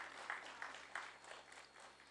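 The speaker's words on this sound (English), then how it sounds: "Big round of applause." Applause from a seminar audience at a memento presentation for a steel plant executive, fairly faint and steady with a few sharper swells, heard from a distance.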